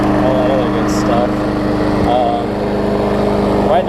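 The engine of a Troy-Bilt TB360 lawn mower, after carburetor cleaning, runs loud and close with a steady buzzing drone, while someone talks over it.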